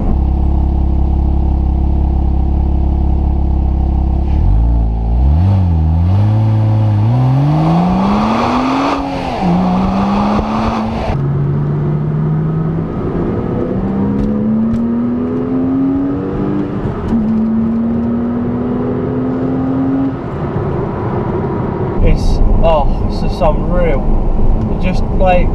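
A Porsche Cayman S engine idles low, then revs hard past 5,000 rpm and climbs through several gears with a loud, rising howl before backing off; faint voices near the end.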